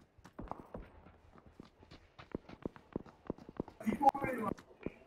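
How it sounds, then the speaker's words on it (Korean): Footsteps in PUBG, a run of sharp, evenly spaced steps that overlap one another, heard under voices talking. "발소리 겹치는 것 같은데"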